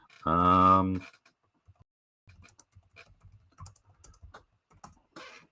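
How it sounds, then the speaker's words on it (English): Soft, scattered clicks of typing on a computer keyboard sit close to the microphone, faint and irregular, following a short voiced sound at the start. "sorry if you can hear me typing."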